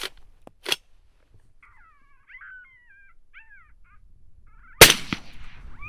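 A rifle shot fired at a coyote outdoors cracks loud and close near the end, following a few quiet knocks and faint calls in the distance.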